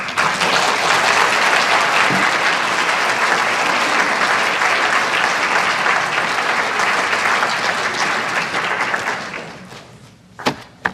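An audience at a talk on the 2018 midterm election applauds loudly and steadily, a dense wash of clapping that fades out near the end, leaving a few isolated claps.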